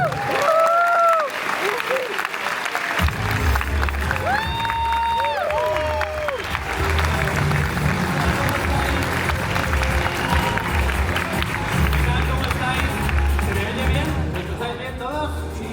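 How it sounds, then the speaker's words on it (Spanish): An audience at a Comic Con panel in Málaga claps continuously and loudly throughout, with some crowd murmur and a short passage of music at the start. "Un fuerte aplauso"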